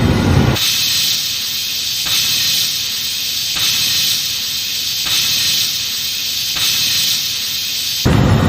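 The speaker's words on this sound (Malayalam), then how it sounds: "അപ്പൊ ഇതാ നമ്മുടെ ആവിയൊക്കെ പോയിട്ടുണ്ട്" A loud, steady hiss of steam escaping from a pressure cooker runs continuously, pulsing slightly every second or so, then cuts off abruptly.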